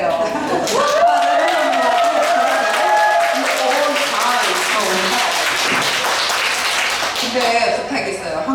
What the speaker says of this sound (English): Please clap a bit later for those who can understand Korean.